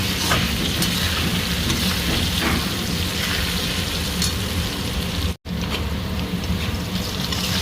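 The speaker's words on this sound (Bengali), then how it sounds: "অল্প একটু হলুদ দিয়ে ভাজবো, সাথে লবণও দিয়ে দেবো।" Potato pieces frying in hot oil with turmeric and salt, a dense continuous sizzle like steady rain that fills the whole stretch, close and loud with no talking.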